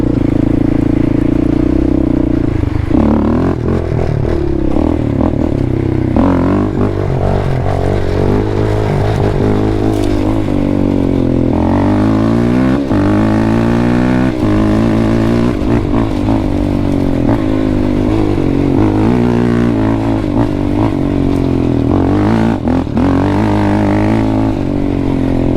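Quad ATV four-wheeler engine revving loudly and steadily throughout a wheelie run, pitch rising and falling as the throttle is worked and gears change, close to the rider with no talk.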